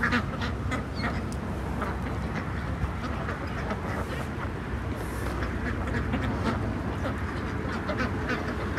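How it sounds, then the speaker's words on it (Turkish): Farm ducks quack on and off over a constant outdoor wash of noise, their calls moderately near and repeated in short bursts throughout. "yine uğraşlar sonucunda kaçak ördeklerimizi bulduk, getirdik."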